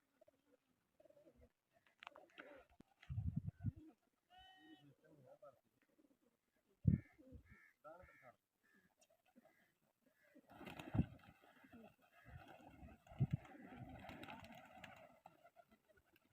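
Pigeons coo in repeated soft, low bursts on a rooftop where birds are being flown, with several cooing phrases spread across the clip between other rustling and movement noise.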